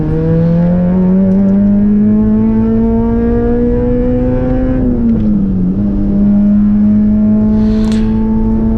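A race car, heard from a Honda Civic with a K20 engine on track, cruises on a slow cool-down lap, a loud, close, steady engine drone that rises gently, dips briefly, then holds at an even pitch.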